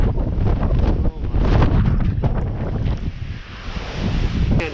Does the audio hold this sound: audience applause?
no